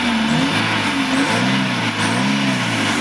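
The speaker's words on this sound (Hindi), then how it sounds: "अब देखिए मैं एक्सीलेटर देता हूँ" An engine revs as the accelerator is pressed during an advancer setting check, its loud, close drone rising and falling in pitch twice with no other sound.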